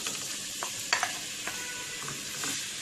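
Bottle gourd (doodi) cooks in hot ghee in a pan, giving a soft steady sizzle with a few light stirring clicks and scrapes, close and fairly quiet, no voices.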